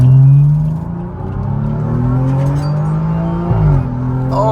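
Rebuilt BMW 435 accelerating hard, a loud close engine note climbing steadily through the revs with a brief dip like a gear change before pulling again.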